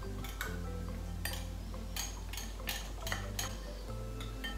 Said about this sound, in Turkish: Ve beyaz çikolatanın erimesi için şöyle hafifçe bir karıştırıyorum